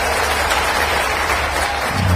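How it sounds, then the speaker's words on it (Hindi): Crowd applause at a political rally in Sagar fills the space as a dense, steady wash of clapping, loud and continuous throughout. "एक बार जोरदार ताली अटल बिहारी वाजपेयी जी के लिए भी बजाएं।"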